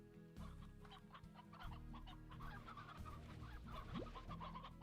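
Briar hens from the video game Slime Rancher cluck repeatedly over a steady game soundtrack and ambient hum, with short bursts scattered across the clip and one rising squawk near the end.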